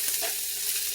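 Beef and mushrooms sizzle in a hot pan, a dense, even hiss with soft stirring movement running through one brief stretch, no voices.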